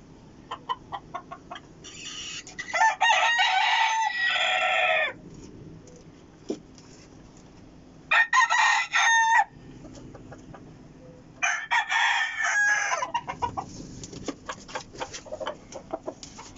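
Several roosters crow in long, loud bursts, with scattered clucking and short calls in between, all fairly close.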